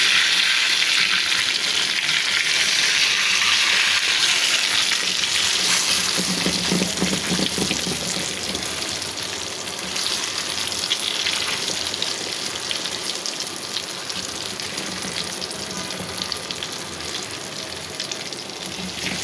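Eggplant slices frying in a pan of hot oil, giving a steady, dense, crackling sizzle that runs unbroken and fairly close throughout, with occasional faint stirring.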